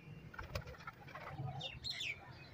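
Pigeons on a rooftop, heard faintly and at a distance, with soft cooing, a brief flutter of wings and a few thin chirps over low background noise.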